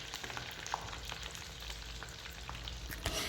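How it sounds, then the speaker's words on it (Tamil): Homemade chicken nuggets fry slowly in a pan, giving a steady, low sizzle with faint scattered crackles throughout, close by and without talk. "இப்போ நான் மெதுவாக ஃப்ரை பண்ணி நான் எடுத்துக்கிறேங்க"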